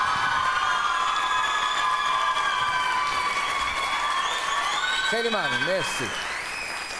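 A studio audience at a televised pantomime game show applauds in a sustained, even roar of clapping and cheering, with a host talking over it near the end.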